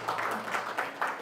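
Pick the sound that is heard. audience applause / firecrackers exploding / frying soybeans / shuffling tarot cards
audience applause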